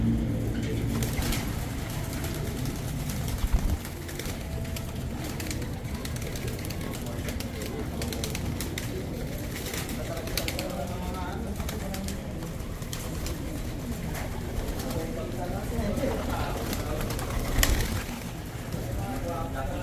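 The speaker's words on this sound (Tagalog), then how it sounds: "Ganda ng mga ibon." Pigeons in a breeder's loft in Angeles City, Pampanga, cooing softly and continuously close by, with a few wing flaps and someone speaking over the birds.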